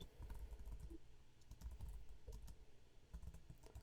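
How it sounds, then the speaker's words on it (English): Typing on a computer keyboard, soft rapid key clicks in irregular bursts over a steady low background rumble, faint and close. "I am typing out the messages to you so that you do not forget."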